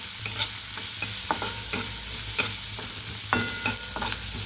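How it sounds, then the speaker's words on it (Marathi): Finely chopped onion sautéed with mustard seeds in a hot pan, a steady sizzle broken by repeated stirring scrapes about every half second, close and fairly loud, with no talking. "बारीक चिरलेला कांद्याला परतून घेऊ।"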